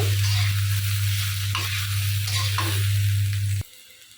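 Sizzling of vegetable stems frying in a pan during home Bengali cooking, a steady close hiss with a few stirring scrapes, cutting off abruptly near the end.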